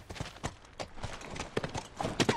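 A horse's hooves clip-clopping at a walk in The Last of Us, a string of sharp, close hoof strikes in an uneven rhythm with no voices over them.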